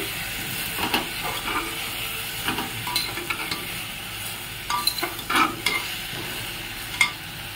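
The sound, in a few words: stirring frying vegetables in a pan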